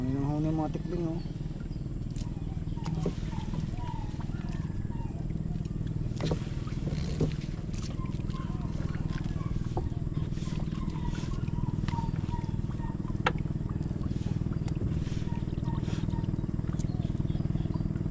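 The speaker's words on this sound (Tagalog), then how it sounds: "Huni mga tikling oh." Barred rails (tikling) call from the bank of a large river in Nasugbu, giving brief chattering calls at the start and scattered faint ones later. A steady boat motor drones underneath and voices are heard.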